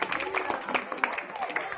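School students at a National Voters' Day event clap in appreciation, a brief patter of scattered applause under someone speaking.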